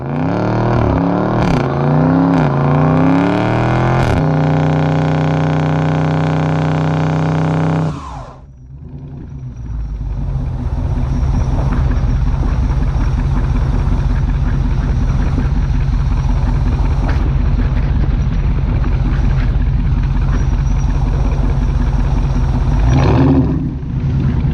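A Dodge Charger Scat Pack V8 revs hard on line lock for a burnout. The loud, close engine climbs and falls in pitch, then after a brief dip it roars steadily with tire-spinning rumble for a long, sustained stretch.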